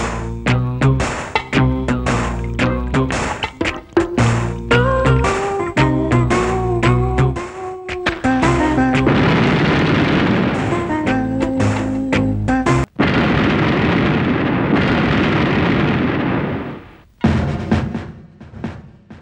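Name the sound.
petrol bomb explosion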